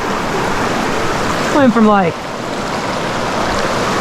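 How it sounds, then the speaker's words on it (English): A small forest creek flows steadily with a broad, constant water rush, and a voice speaks briefly over it partway through. "What a fun little creek, man."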